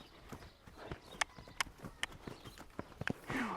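A quarter horse canters, its hoofbeats landing as a quick rhythmic series of soft clip-clop thuds at moderate distance, with no talking over them.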